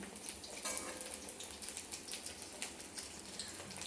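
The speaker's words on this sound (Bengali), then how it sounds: "দেখো বন্ধুরা বড়াগুলোকে উল্টে পাল্টে খুব সুন্দরভাবে কিন্তু ভেজে নিলাম" Pumpkin flower fritters fry in oil over medium-low heat, giving a steady, fairly quiet crackling sizzle with small bright pops scattered throughout and no talking.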